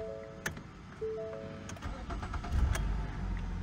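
Inside a 2015 Ford Fusion, a few soft electronic chimes sound before the engine, started using an alarm-bypass emulator and brass key, cranks and fires up quietly near the end of the short, otherwise hushed stretch.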